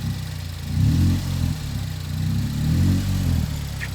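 A DF Goblin kit car engine revs in a few swelling bursts as the throttle is pressed and eased, a close, loud mid-pitched rumble rising and falling over about four seconds.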